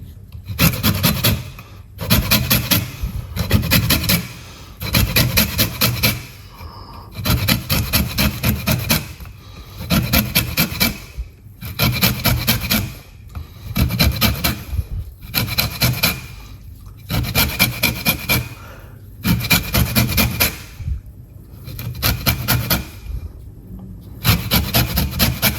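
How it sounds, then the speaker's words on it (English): A lemon is zested on a grater in a kitchen, with loud, rhythmic rasping strokes in regular bursts separated by brief pauses, close and alone. "We're going to zest the lemon."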